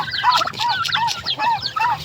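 Turkeys gobble and chirp in repeated warbling bursts, close by, with chickens clucking faintly underneath.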